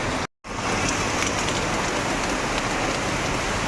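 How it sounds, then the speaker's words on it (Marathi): Heavy rain pours outside in a dense, continuous hiss, loud and steady after a brief dropout at the start, with no voices. "बघा किती जोरात पाऊस आलेला आहे."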